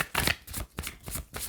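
Tarot cards are shuffled by hand at close range in quick riffling bursts, four or five short flurries separated by brief pauses.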